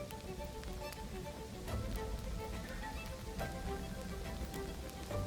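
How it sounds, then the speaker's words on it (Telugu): Steady rain falls outdoors, a continuous fairly quiet hiss of drops on surfaces with occasional louder patters and a faint hum underneath. "వర్షం వస్తుంది."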